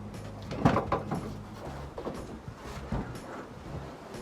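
A heavy 1950 Standard Vanguard Phase 1 car door being handled close by, with a solid thump and some rattling and scraping as it shifts, followed by quieter knocks.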